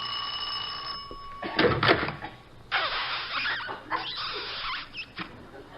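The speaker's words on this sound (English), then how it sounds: "I'll ring the bell." A 1949 radio comedy sound effect of a doorbell ringing and a door opening: a sustained bell tone followed by clunks and rattling bursts, with no speech.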